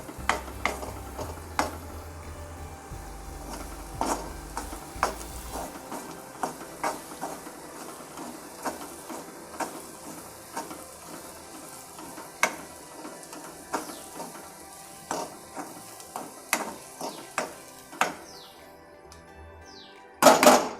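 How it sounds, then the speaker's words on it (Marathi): Paneer masala ingredients stir-fried in oil sizzle steadily in a pan, punctuated by sharp, rhythmic scrapes and clacks of a spoon against the metal, close and fairly loud, with a low hum early on and no talking. "परतून घेऊया। तेलामध्ये."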